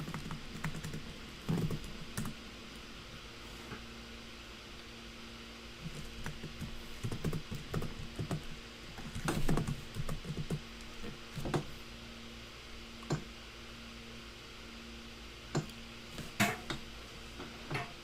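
C++ code being typed on a computer keyboard, with quiet, close key clicks in irregular bursts and a few louder taps, like a spacebar or enter key, without any voice.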